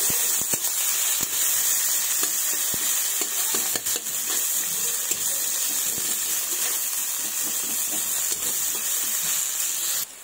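Finely chopped garlic fries in a pan, giving a loud, close, continuous sizzle with scattered crackles and occasional stirring scrapes, alone without talk.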